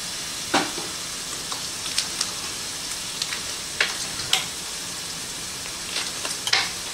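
A spoon stirs sour cream and Monterey cheese into mashed potatoes in a pot, making sparse soft scrapes and knocks over a constant low hiss.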